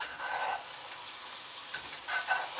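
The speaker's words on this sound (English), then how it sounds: "listen to that sizzle" Chicken thighs sizzle in a hot pan, a steady broad hiss with brief surges of louder crackle near the start and end, close up with no talk.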